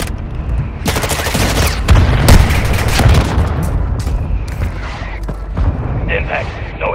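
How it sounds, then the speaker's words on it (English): Mortar strike explosions in the Warzone Mobile video game, played on an iPhone 13: a rapid barrage of loud booms and cracking impacts over several seconds, then fading rumble with scattered game sounds. "Mortar strike inbound now."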